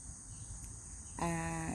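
Crickets chirp as a comic silence cue, a steady high trill joined by a brighter, louder insect-like pulsing tone near the end, heard alone without talk.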